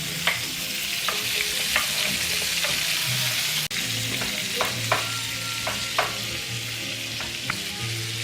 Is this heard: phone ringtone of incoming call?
no